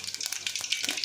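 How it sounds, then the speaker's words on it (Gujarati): Mustard seeds hit hot oil for tempering a Gujarati dhokli vegetable curry, producing a quick run of soft, crackling pops over a quiet frying hiss. "હવે આપણું તેલ ગરમ થઈ ગયું છે। તો હવે એમને થોડીક રાઈ ઉમેરીશ"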